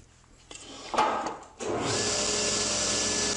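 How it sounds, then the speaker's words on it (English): Table saw making bevel cuts on a wooden pyramid cap held on edge: a brief rising whir and a short cutting burst, then the blade settles into a steady, loud whine that holds to the end. "it's quick, easy, accurate, and safe to make the beveled cuts on each of these caps"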